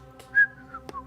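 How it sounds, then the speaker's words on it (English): A person whistles softly in the dark, a few short faint tones with one brighter sustained note in the middle, heard alone. "stealthily whistling"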